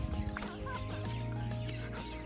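Chickens at a village resort near Tezpur cluck and chatter close by in a short burst, with other farmyard noise mixed in.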